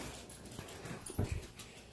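A dog indoors during a snowstorm in Lynndyl, Utah, makes soft whimpers and a short yip, close and fairly quiet, with no talking.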